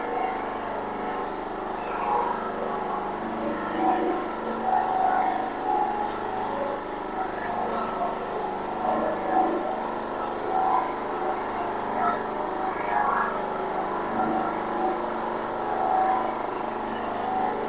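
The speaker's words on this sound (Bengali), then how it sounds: "দেখেন আমার 1200 ওয়াট মোটর।" A 1200-watt electric motor runs with a steady, continuous hum and whir, fairly close and even in level throughout, with a faint mechanical rattle riding on top.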